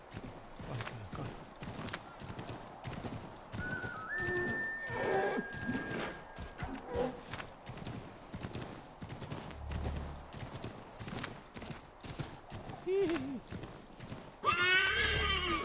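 A horse in the Assassin's Creed 3 video game gallops with rapid clip-clop hoofbeats and lets out a shrill whinny, with someone talking excitedly over the game sounds in places.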